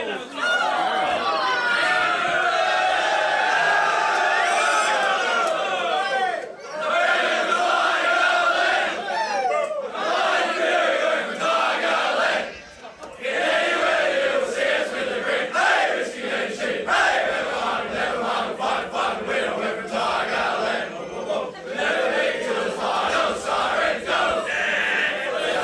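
Football team and supporters at a country senior football match in Merrivale singing the club team song together, a loud, continuous crowd chant with shouting and cheering mixed in.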